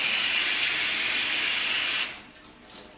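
A shower head sprays water in a loud, steady hiss for about two seconds, then the flow cuts off, leaving only faint drips and rustles.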